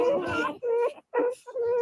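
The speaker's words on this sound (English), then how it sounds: "Don't y'all love the puppy sounds?" Newborn puppies from a litter of fourteen whimper and yip in short, high-pitched bursts close to the mic, with brief gaps between cries.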